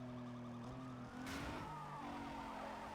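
Police sirens wailing around cars in the Need For Speed Most Wanted racing game, a steady rising-and-falling siren tone over engine drone, with a sudden swelling rush near the middle as pursuit closes in.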